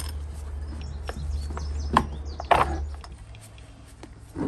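Bolts on a Suzuki GSX-R motorcycle, worked on for a charging-system fault, are tightened with a tool: a couple of metallic clicks and ratcheting scrapes sound over a low steady hum in a workshop.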